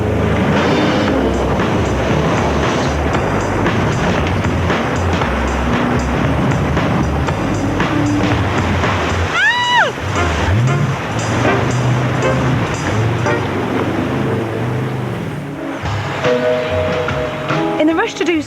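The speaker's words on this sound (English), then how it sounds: "You get blasted along the Zambezi, over the rapids, going scarily close to the rocks and the boulders that are at the side." A boat roars along the Zambezi over the rapids, with a loud, constant rush of engine and churning water and a brief rising whine partway through.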